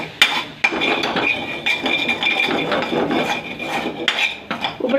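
A spoon scrapes and clinks against a pot while scooping fried rice, a run of irregular metallic taps and rasping scrapes, close and moderately loud.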